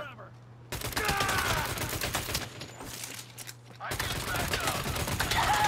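Gunfire in the Saints Row video game, a dense near-continuous fusillade of rapid shots and bursts, loud and close with a brief drop in the middle, cluttered with game effects.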